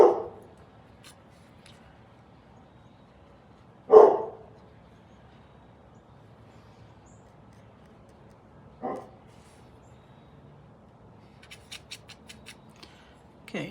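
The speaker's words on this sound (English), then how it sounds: "So we're just going to have to live with the barking." A dog barks in a few separate bursts: one at the start, a louder one around four seconds, a weaker one near nine seconds and a brief one at the end, all over a quiet indoor background.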